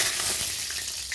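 Hot oil sizzles in a heated wok with a steady, close frying hiss and faint crackles, no voices.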